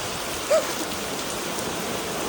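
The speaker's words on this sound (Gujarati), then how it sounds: "ધોધમાર વરસાદ ચાલી રહ્યો છે" Steady heavy rain pours down in a dense, even hiss with one brief faint blip early on; no voices.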